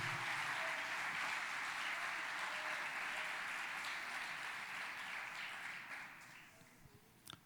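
Congregation applauding during a Portuguese-language church service, a steady, fairly distant wash of clapping that gradually fades and thins toward the end.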